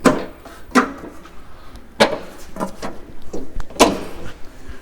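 An RV screen door on a 2020 Forest River Surveyor 241RBLE travel trailer is opened and shut, giving several sharp knocks and clacks with lighter rattles between them, close by with no talking.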